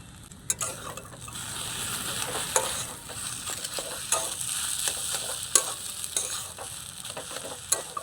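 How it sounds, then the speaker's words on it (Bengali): Spiced filling with salt and turmeric is stirred and cooked in a pan, giving a soft steady sizzle broken by repeated sharp scrapes and clicks of a spatula against the pan, close by and moderately quiet. "আবারও আমি এইভাবে নাড়িয়ে চাড়িয়ে কিছুক্ষণ রান্না করে নেব"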